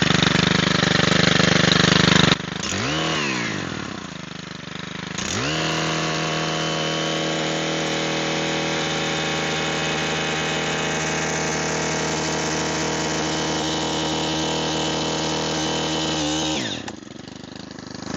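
A small petrol engine on a self-propelled lawn machine fires after a pull start, idles briefly, then revs up and holds a loud, steady close drone before winding down near the end.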